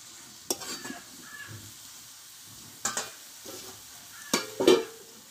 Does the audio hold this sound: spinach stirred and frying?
yes